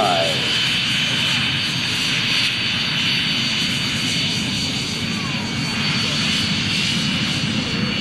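An L-39 jet roars steadily as it passes during an air show flyby, a loud, continuous engine rumble with a public-address announcer speaking over it.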